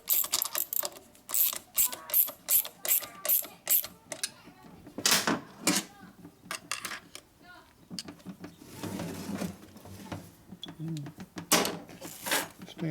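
A torque wrench ratchets on motor bolts of a 1949 Harley PanHead 74ci engine during an overhaul, rapid clicking bursts up close alternating with pauses, and someone talks between them.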